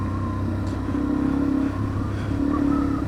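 Motorcycle engine droning steadily as the bike rides the Blue Gum dirt track, with rising and falling revs in a continuous close hum and no talking.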